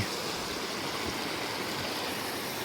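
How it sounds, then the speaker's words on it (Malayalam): A flowing stream near a homestay with a footbridge, a dense, steady rushing of water heard close and alone without pause. "നല്ലൊരു അരുവി."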